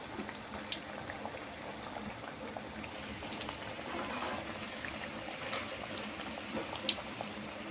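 Cowpea vadas fry in hot oil with a faint, steady bubbling sizzle and a few small pops, quiet and continuous with no voices over it.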